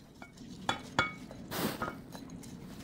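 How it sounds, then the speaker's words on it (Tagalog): Black and white sticky rice being mixed in a pot for biko, with a few sharp utensil clinks against the pot and a brief scraping swirl in between. The sounds are close and fairly quiet, and no one speaks. "dito sa isang pot, paghaluin na natin itong black and white sticky rice."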